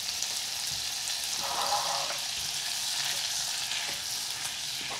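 Six tablespoons of unsalted butter melt in a pan over a low fire, producing a steady, soft, even sizzle that holds throughout with no talking.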